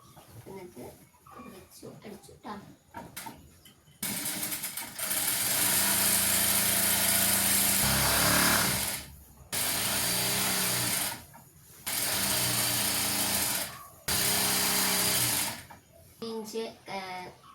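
A sewing machine stitches the folded hem of a piped nightie in several loud bursts of steady whirring, separated by pauses, with someone speaking before and between the runs.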